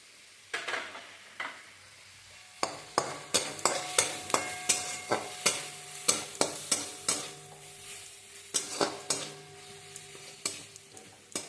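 Mustard paste mixture being stirred in a pan, with a steady series of scraping, clacking spoon strokes over a soft sizzle, close and fairly loud, no voices.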